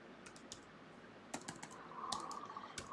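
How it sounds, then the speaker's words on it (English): Fingers typing on a computer keyboard at a security guard's post, with scattered clicks and short bursts of keystrokes at an uneven rhythm, faint and close over a quiet room hum, with no talking. "I hit enter first and was typing all this weird stuff."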